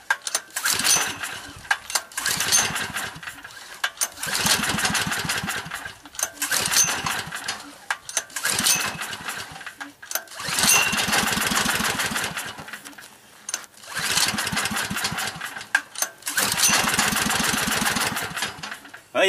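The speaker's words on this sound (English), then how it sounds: "Well, you can hear it firing up a little bit." A generator engine running on wood gas from a wood stove sputters in repeated loud bursts of rapid firing, each lasting a second or two and separated by brief lulls, heard up close.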